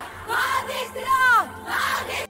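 Angry crowd of women and elderly people in a street in Malegaon shouting together in unison, with loud, surging yells that swell and fade in waves before cutting off.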